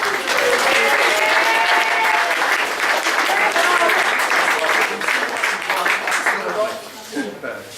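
Steady applause from an audience at an MG Metro Cup trophy presentation, honouring the Class A winner, dense clapping sustained for several seconds before tapering slightly near the end, with a few voices underneath.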